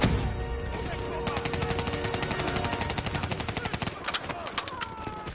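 Rapid gunfire in the Call of Duty Black Ops 3 campaign rattles in steady bursts of close shots over battle noise, with sharper isolated cracks toward the end.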